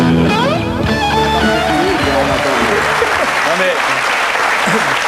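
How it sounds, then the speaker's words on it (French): A theater audience at a classical-music television event claps loudly right at the start, and the applause carries on steadily. Voices can be heard over the clapping. "les applaudissements qui continuent un petit peu plus longtemps"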